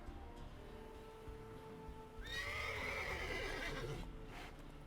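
Horse neighing in The Witcher 3 video game, a single loud whinny of about two seconds rising over a quiet game ambience, with faint hoof clip-clops near the end.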